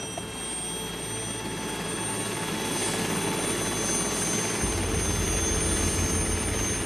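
Steady, loud roar of a helicopter in flight, heard from inside the cabin, with a constant low drone and whine that holds evenly and thickens slightly toward the end, with no voices.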